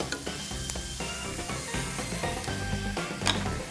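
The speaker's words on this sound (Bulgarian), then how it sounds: "Разбърквам. По този начин ще оберем и леко запеклия се тиган от зеленцето" Curry of vegetables, chickpeas and cabbage with coconut being stirred in a frying pan, a steady sizzle with repeated scraping and clinking of the utensil against the pan, close and continuous.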